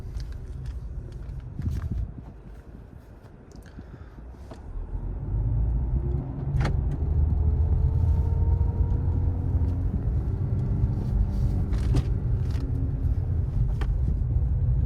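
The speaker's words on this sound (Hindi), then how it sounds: "धीरे धीरे से क्लच छोड़कर आपकी गाड़ी आगे चलने लग जाएगी" A 2026 Suzuki Fronx pulling away in first gear as the clutch is slowly released; a low engine rumble rises after a quieter start and holds steady and close, with faint interior clicks and no talking.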